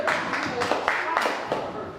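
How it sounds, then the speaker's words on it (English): A crowd of children at a tenth birthday celebration claps together on command, a few sharp group claps spread over two seconds amid chatter and talk in the background. "If you can hear me, clap 5 times."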